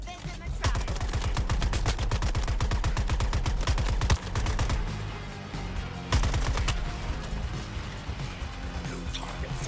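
Loud, rapid machine-gun fire in Suicide Squad Kill the Justice League on Xbox Series X, with sustained bursts broken by short pauses and heavy impacts.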